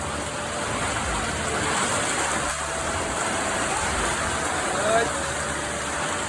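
Rain falling in a Nepali village: a continuous, even hiss of steady rainfall, fairly soft and unbroken, with faint low rumbles underneath.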